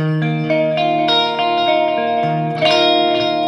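An Ibanez FRM250MF Paul Gilbert signature electric guitar on its middle pickup rings out chords with a clear, slightly chimey tone, each strum sustaining with reverb, played alone without voices.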